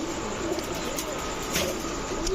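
Indian Kagzi pigeons, a male and female pair among pigeons offered for sale, cooing in soft repeated low calls, close by, over steady background noise with a voice faintly present.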